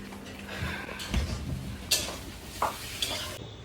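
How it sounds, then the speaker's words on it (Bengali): Chicken frying with salt in a pan in a home kitchen gives a low sizzle, broken by a few sharp stirring scrapes and clinks of a utensil against the pan at irregular moments. "চিকেনটা আগে ভাজি করে নিচ্ছি লবণ দিয়ে"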